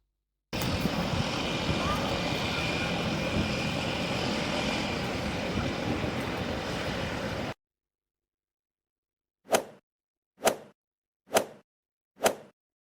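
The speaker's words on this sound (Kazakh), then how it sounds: "Бұл гидроұшақ." Seaplane engine as a sound effect: a steady, loud droning roar that runs for several seconds and then cuts off abruptly, followed by four short, sharp whooshing hits spaced about a second apart.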